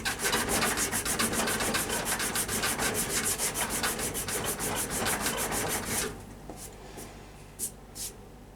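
Sandpaper rubbing over ebony overlays on a hickory pyramid bow: a steady run of quick back-and-forth scratchy strokes, close and fairly loud, stopping near the end with a few faint scrapes after.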